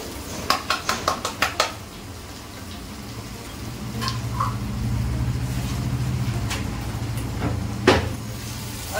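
Chopped cumin, ginger and garlic go into a cooking pan for a dinner thali, opening with a quick run of sharp metallic clinks, then a steady low frying hiss with a few scattered clatters.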